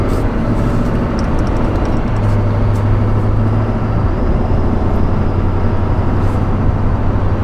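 Steady loud cabin drone of a 2020 Duramax diesel pickup on the road, engine hum and road roar filling the interior without pause.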